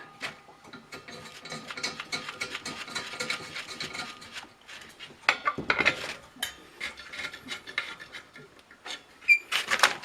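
A homemade still's lid is closed and its nuts tightened, giving a run of small metallic clicks, ratcheting and scraping taps, close by and irregular, with a few louder clunks near the middle and end.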